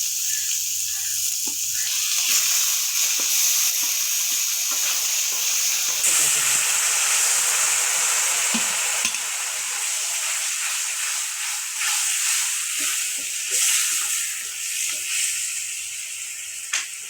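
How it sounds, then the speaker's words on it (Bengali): Tomatoes and potatoes sizzle steadily in a hot pan, a continuous close frying hiss with faint stirring scrapes throughout. "যতক্ষণ গরম দেবে টমেটো আলু ভেজে নিচ্ছি"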